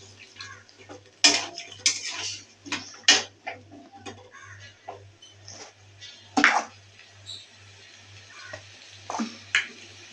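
Chicken goes into spiced oil with a green chili in a pan for a bottle gourd chicken curry and is stirred, giving irregular close metallic spoon scrapes and clinks over a faint steady low hum.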